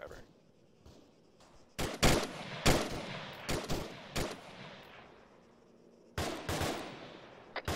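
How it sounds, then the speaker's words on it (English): Rifle gunfire rings out in the military shooter game Squad, sharp shots in scattered bursts with quiet gaps between them and faint radio talk underneath. "Firing at the driver."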